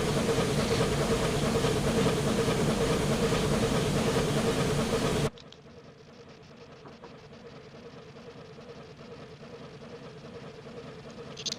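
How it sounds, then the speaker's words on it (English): Civil War era steam locomotive replica, a wood-burning balloon-stack engine in Train Simulator Classic, giving a loud steady rumbling chug that drops abruptly to a quieter, distant running drone for the rest. "modern-day recreation of a Civil War era engine"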